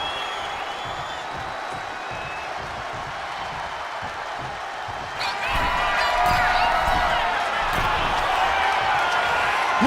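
Loud arena crowd roaring in the WWE 2K25 wrestling video game, a steady dense wash of noise that swells louder about halfway through, with thuds and impacts scattered through it.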